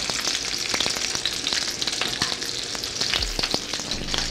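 A burger meat patty fries in a pan, crackling and sizzling steadily and fairly close, with scattered sharp pops throughout and no voices.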